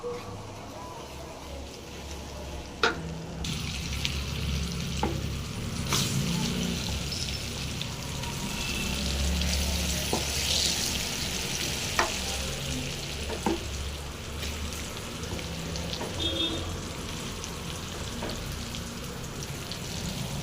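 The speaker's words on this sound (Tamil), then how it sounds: "தனி மிளகாய்த்தூள் போட்டு நல்லா கலக்கி கொடுங்க" Lemon pickle cooks in a pan while chili powder is stirred in, a low steady sizzle with occasional sharp spoon taps against the pan.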